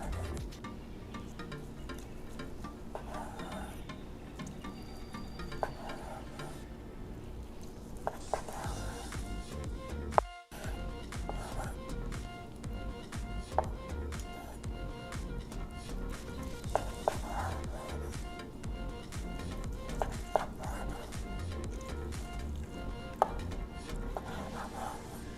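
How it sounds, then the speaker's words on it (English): A knife cuts roasted char siu pork into pieces on a board, giving quiet scattered knocks and taps under a low, busy background of faint music-like sound. "Now I'm going to cut the char siu into pieces."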